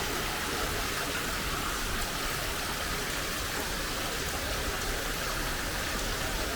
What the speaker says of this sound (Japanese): 今朝はねちょっと雨が降ってるんですけども